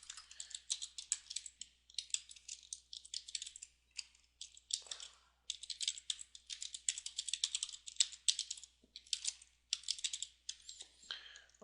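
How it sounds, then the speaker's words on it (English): Rapid clicking keystrokes on a computer keyboard come in bursts with brief pauses, close and fairly quiet, during web coding. "it's just a lot of typing."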